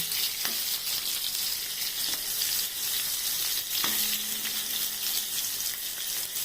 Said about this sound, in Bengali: তাই আমি একটু তেল দিয়ে বেগুনটাকেও লাল লাল করে ভেজে